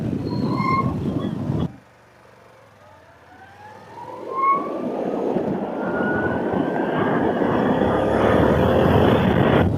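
A Harley-Davidson LiveWire electric motorcycle pulls away with a rising, whining electric-motor tone that climbs in pitch over road and wind noise, following a brief burst of louder riding noise and a short lull.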